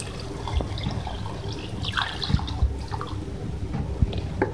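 Water runs into a pot of simmering chana dal with chicken, a steady close trickle with small splashes and a soft background hiss.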